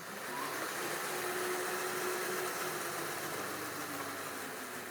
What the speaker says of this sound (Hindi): अब ये जो आवाज़ जो थोड़ी बहुत आ रही है ना, ये इसकी फ्रंट स्प्रॉकेट की आवाज़ आ रही है